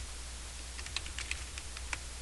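Keys clack on a computer keyboard in a short, quiet burst of light taps over a faint steady hum.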